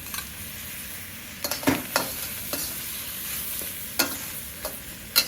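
Onion stir-frying with tomatoes in a wok on a Cuisinart outdoor wok station: a steady background sizzle broken by a handful of sharp scraping stirs of the spatula against the wok, close up, without speech.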